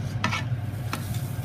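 A spoon stirs pale malt into the mash in a Bulldog Brewer, producing a few wet, grainy swishes close up over a low steady hum.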